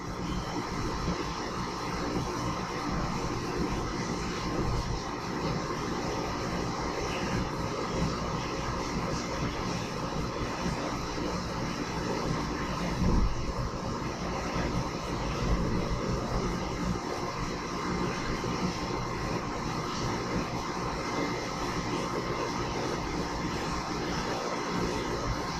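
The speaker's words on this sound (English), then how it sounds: "can hear the filtrate going into the tank behind you." Steady broadband rushing and droning of filtrate pouring into a tank in a pulp digester lab, continuous and fairly loud throughout with a low mechanical hum underneath and no talking.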